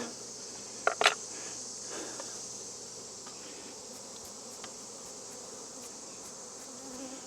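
A steady, close swarm of bees on a honey frame hums continuously, with a couple of brief knocks near the start and faint soft clicks later.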